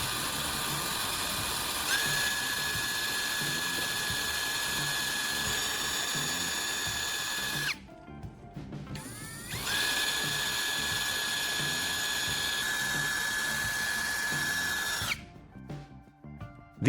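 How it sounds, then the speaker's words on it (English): A power drill whirs steadily as it bores two holes into the plastic casing of a phone charger, running in two long sustained passes, each ending in a brief rattling stop before the motor spins up again. "I'm using a drill to make two precise holes on the side where the USB port usually is."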